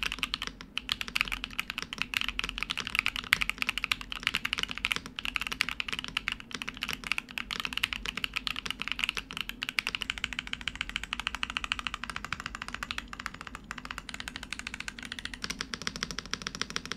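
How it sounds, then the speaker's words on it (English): Rapid typing on a Vega IQ75 computer keyboard fills the stretch with dense, continuous key clicks and clacks, close and fairly loud, with brief pauses and no talking. "Alright, we're done. Typing test."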